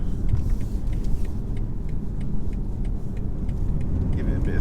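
A 2021 BMW 520d Touring diesel estate with a manual gearbox drives along, its engine and road rumble steady and fairly loud, with light ticking and clicks over the drone and no voices.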